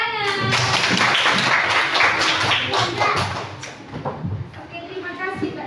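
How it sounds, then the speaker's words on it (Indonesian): Classroom applause for a pupil at an elementary school, a dense burst of many children's hands clapping close by for several seconds, with chattering voices mixed in and thinning toward the end. "Ya, pintar, tepuk tangan."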